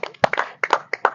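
A quick burst of about seven hand claps in an uneven rhythm, close and clear, during a police recruitment physical test.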